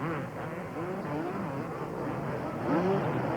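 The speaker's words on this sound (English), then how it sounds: "them working that throttle as they bounce their way over the whoop sections" Supercross motorcycles at the 1995 Daytona 250 rev their engines in rising and falling pitch as riders work the throttle over whoop sections, with a buzzing roar from the track in the background.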